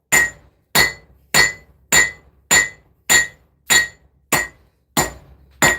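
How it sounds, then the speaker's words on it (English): Hammer blows on a heated railroad spike on an anvil while a knife is forged, ten evenly spaced ringing metallic strikes about half a second apart, loud and close with no talking. "I'm really just hammering down with the cross beam for the most part to really spread the material out of this railroad spike."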